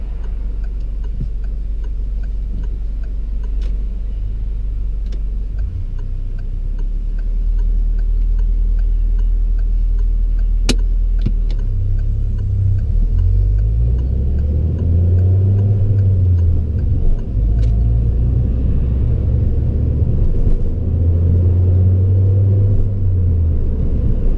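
A car pulls away and drives on during a mock driving test in Derby, its engine rumbling loud and close, rising and settling through gear changes with faint ticking, no talk.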